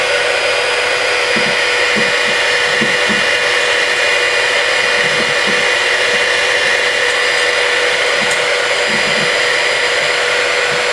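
A cheap handheld heat gun blows hot air onto heat-transfer vinyl. It gives a loud, steady fan roar with a constant whine that runs unbroken throughout, with faint low rubbing or tapping underneath.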